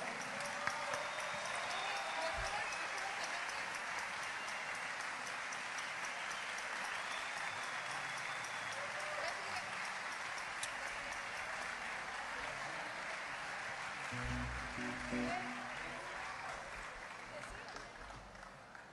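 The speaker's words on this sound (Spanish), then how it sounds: "El aplauso para el compositor de esta hermosa canción" A festival crowd at the Mangostino de Oro 2023 applauds the composer of a song, with steady clapping carried on for a long stretch and faint crowd noise and brief thumps mixed in.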